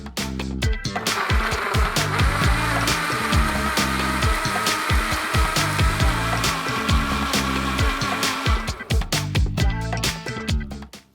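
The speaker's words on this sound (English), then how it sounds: "So let's blend." Blender running on a banana and kale smoothie, a loud, harsh mechanical whir with rapid choppy pulses and grinding as the blades churn, starting abruptly and cutting off near the end.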